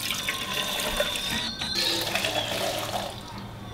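Thai iced tea poured street-food style to build foam, a steady broadband splashing and running-liquid stream lasting throughout, close and fairly loud with no talking.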